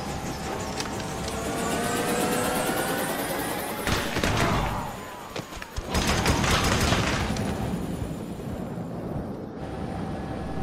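Dense rumbling gunfire and explosions in Resident Evil 5, with a continuous whirring drone of helicopter rotors running through the whole stretch.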